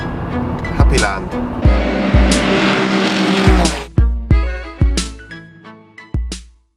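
Race cars, mostly BMWs and Porsches, racing in an RCN race at the Nurburgring, engines roaring loudly through a sustained pass, then a rapid series of separate cars blasting by with sharp gear-change drops.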